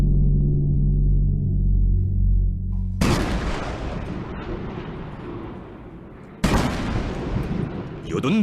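Cannons fire an 80-round salute at a Chinese national flag-raising ceremony, with two heavy booms that each roll out into a long rumbling decay, following a stretch of quieter sound.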